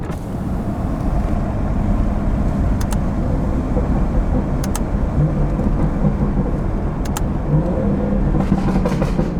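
A stage 2 tuned BMW 440i engine roars loudly under hard acceleration with windows down, with rushing wind and road noise and a few brief high clicks.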